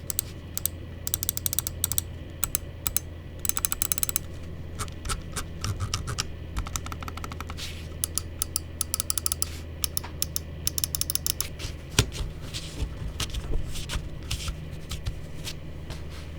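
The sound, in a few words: Wlmouse Beast X Mini wireless mouse clicks, build quality sound check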